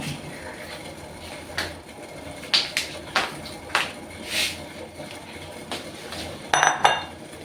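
A knife chops the tender top shoot of a coconut palm into small pieces, making a string of sharp, uneven taps and clicks, with a quick cluster of clinks near the end.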